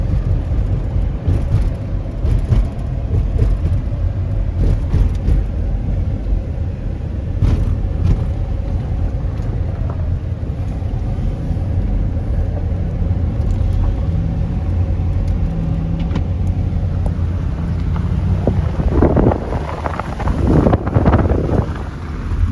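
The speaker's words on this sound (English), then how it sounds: "we're about to make a ride down this dirt road" A vehicle rolls along a dirt road near Hugo Lake, its steady low rumble mixed with wind buffeting the microphone, with rougher bumps near the end.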